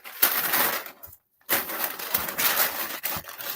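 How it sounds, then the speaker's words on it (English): Packing paper crackles and crumples as it is stuffed into a shipping box around a Contra video game, a close dry rustling that stops briefly and then resumes. "smashing it with some packing paper"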